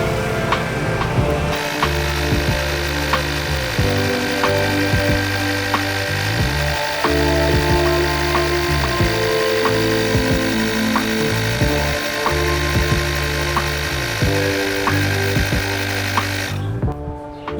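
A cordless tire inflator pumps air with a loud, constant motorized buzz and rattling piston pulses, with slight pitch shifts as pressure builds, running continuously until it stops near the end; no one speaks.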